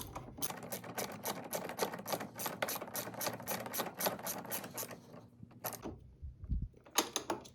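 Dense rapid ratchet clicking from a 1/4-inch ratchet tightening bolts on an Ohlins-style RykerMod steering stabilizer bracket, close and steady for about six seconds, then a pause with faint handling before a final short burst of clicks.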